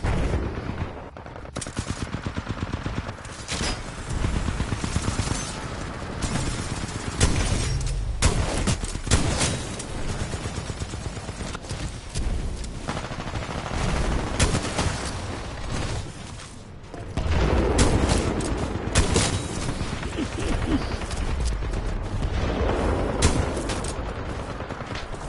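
Rapid, dense shotgun fire from a Mastiff in a Titanfall 2 match, with loud repeated blasts filling the whole stretch, barely broken by short pauses.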